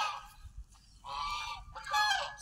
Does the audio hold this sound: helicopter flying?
no